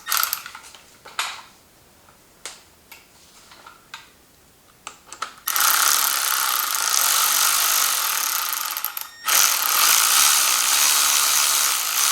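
A wrench ratchets on a Subaru BRZ car part with a few sharp clicking strokes, followed by a sustained, loud, harsh mechanical noise.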